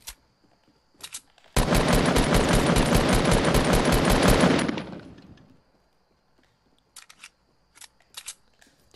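Compact SMG in Fortnite firing a single sustained automatic burst of about three seconds, loud and rapid, then trailing off, with a few sharp clicks and taps before and after.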